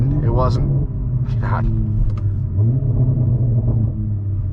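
A 2021 Toyota Supra with a muffler delete and stock downpipe rumbles close by, throbbing through downshifts with popping burbles over the engine drone, while someone talks briefly over it.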